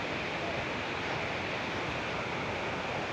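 Waterfall spray at Bomburu Ella in Sri Lanka makes a steady, dense hiss of falling water. It is close and unbroken, with no voices.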